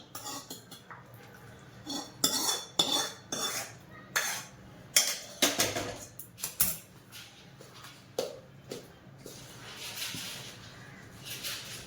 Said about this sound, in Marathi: चांगलं असं मिक्स करायचं आहे